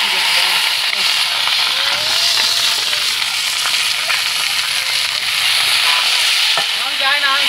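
Ginger paste and cucumber fry in a pan with fennel seed, a steady loud sizzle with hissing steam running throughout, while a voice talks over the cooking.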